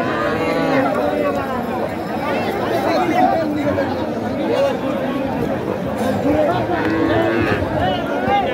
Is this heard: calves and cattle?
yes